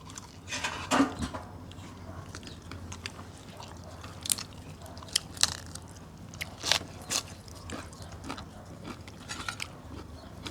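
Food being bitten and chewed, with irregular crunchy and smacking mouth sounds in bursts, close up, meant to be eaten with plenty of vegetables.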